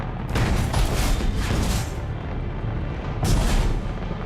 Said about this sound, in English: That's their defense cannons.